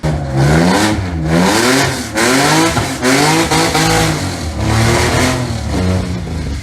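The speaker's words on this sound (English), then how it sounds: "And we blew it again on Instagram with a rod through the block, which I'll throw a clip right now." A project car engine at a legal pit, loud and close, revving hard in repeated rising and falling surges with brief dips between pulls, before it fails with a rod through the block.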